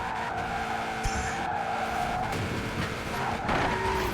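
A Ford Focus RS Preorder Edition skids with a sustained tire squeal and a steady engine roar in Forza Horizon 4, loud and continuous throughout.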